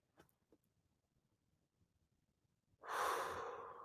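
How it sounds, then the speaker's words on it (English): One deep, loud breath drawn close to the microphone near the end, a strong rushing inhale following a stretch of near silence with a couple of faint small clicks. "Breathe deep."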